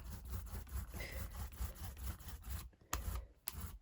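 A tool or roller rubbing blue paint across a printmaking surface makes a faint, steady scratchy rasp in quick repeated strokes, ending with a couple of sharp taps.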